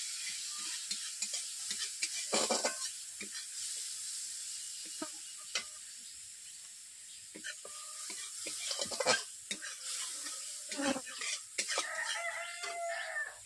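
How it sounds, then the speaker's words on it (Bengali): Spice paste sizzling and being stirred in a pan with a little water, for a pangas fish dish: steady frying hiss with scraping strokes of a spoon, irregular and close, with no talk over it. "জল দেওয়ার পর মশলাটাকে এইভাবে 1 থেকে 2 মিনিট কষিয়ে নিয়েছি।"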